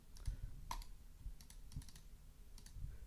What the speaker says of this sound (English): we'll go ahead and make some mouse clicks as well